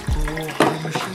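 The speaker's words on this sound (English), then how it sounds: "and drain the water" Cooking water drains from a crock pot of cannabutter, pouring and splashing steadily at close range with a couple of sharper gushes and no talking.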